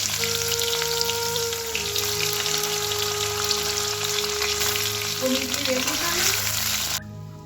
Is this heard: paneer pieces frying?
yes